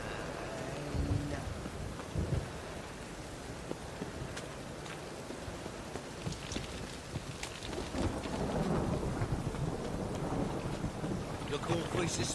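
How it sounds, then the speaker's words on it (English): Steady rain pours down with low rumbling thunder rolling underneath, growing heavier toward the end, in the video game The Witcher 3: Wild Hunt. "Rain, I like"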